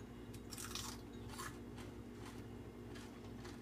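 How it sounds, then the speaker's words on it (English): Crispy fish sticks cooked in a halogen oven are bitten and chewed up close, giving several short crunchy bursts amid quieter chewing, with no talking. "Nice crunch when you bite down on it."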